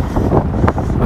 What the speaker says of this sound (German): weil mir der Wind so in den Hals reingeht